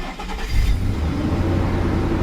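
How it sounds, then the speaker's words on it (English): A rear-wheel-drive SE car with a failing oil pressure sensor fires up, a loud low engine catch about half a second in settling into a steady close idle rumble. "Now the car's on."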